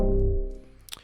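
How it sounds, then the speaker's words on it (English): A bass line convolved with a supersaw synth chord used as the impulse response makes a dense, sustained harmonic chord tone. It fades through the second and ends in a brief bright burst. "But put it with this chord as the convolution signal,"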